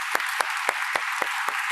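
Sharp, evenly spaced claps from a conference audience, about seven distinct hand claps in a steady rhythm, fairly faint and close with no talking over them.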